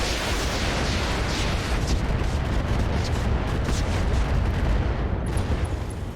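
A dense volley of MRM missiles pounds a target in RogueTech, the BattleTech game, as one continuous loud roar of overlapping blasts and rumbling explosions.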